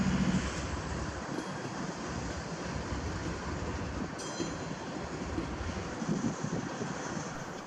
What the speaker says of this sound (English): 674's conductor threw a few switches and allowed the train to enter the yard.